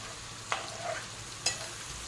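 Mutton pieces with turmeric, pepper, cumin, coriander and lemon powders and salt being stirred in a pan for mutton rice, heard as a quiet soft hiss broken by two brief scraping clicks of the stirring utensil, near and without voices.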